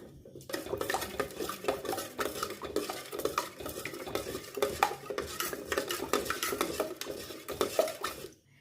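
A spoon stirs a fried-chicken marinade with vinegar in a bowl, with steady scraping and clinking against the sides, close and busy, no voices.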